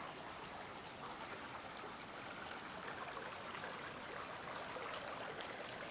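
A waterfall along a rocky creek trail on a canyon fire trail walk, heard as a steady, dense rushing wash of water that continues without a break throughout.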